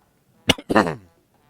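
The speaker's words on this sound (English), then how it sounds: "that rock roast is giving me the coughs" A character in The Legend of Zelda: Breath of the Wild gives a short cough burst followed by a longer, raspy throat-clearing cough, close and fairly loud, then quiet.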